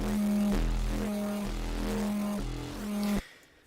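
An FM synth patch designed in Serum plays a gritty, harmonically rich tone that pulses in a steady rhythm for about three seconds, loud and alone, before cutting off abruptly.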